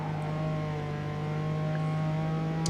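Nissan GT-R engine in Forza Motorsport 8, a steady sustained engine drone that builds slightly toward the end as the car accelerates, heard alone.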